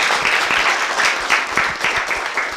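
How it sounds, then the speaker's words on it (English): Audience applause for a speaker at a talk or workshop, a steady wash of many hands clapping at moderate volume throughout, with no speech over it. "give a round of applause for our speaker, Michael"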